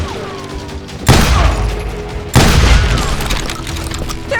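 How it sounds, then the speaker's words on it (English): Two loud, booming shotgun blasts, a little over a second apart, ring out in a Wild West street gunfight in the video game Call of Juarez Gunslinger. Each blast decays with a long echoing tail. "They're shooting in the street!"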